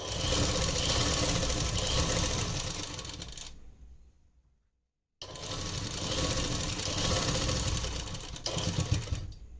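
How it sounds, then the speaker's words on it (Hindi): A sewing machine stitches elastic onto the waist of ladies' trousers in two loud, dense, continuous runs up close, broken by a short full stop near the middle. "और ये यहाँ पे सिलाई लगा लेनी है।"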